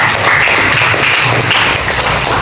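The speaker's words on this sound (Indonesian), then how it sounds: "tepuk tangan dulu untuk Putra" Classroom applause for a student named Putra: steady, dense clapping from a group of students, loud and continuous throughout with no talk over it.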